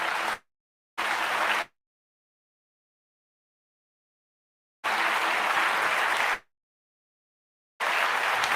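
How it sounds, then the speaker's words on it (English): Bursts of crowd applause at a talk with Jaylen Brown and 19Keys, broken into short separate rounds with silent gaps between them, loud and broadband when it plays. "Everybody give a round of applause for my brother Jaylen Brown"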